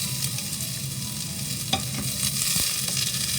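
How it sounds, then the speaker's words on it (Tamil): Sliced onion sautés with fried garlic in a pan for creamy pasta, giving a steady close sizzle broken by occasional scraping stirs, with no talking. "இது ஃப்ரை ஆனோடனே நம்ம எடுத்து வச்சுருக்கிற ஆனியனை அது கூட சேர்த்து போட்டு நல்லா வதக்கும்."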